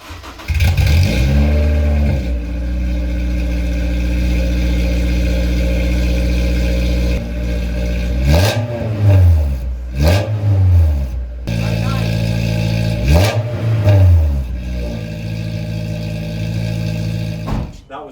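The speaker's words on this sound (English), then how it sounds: "let's take a listen to what the straight piped 3-inch exhaust sounds like" A Honda S2000 with a straight-piped 3-inch exhaust idles loudly, then is revved several times in sharp rising and falling bursts, close up and raw, with no talking.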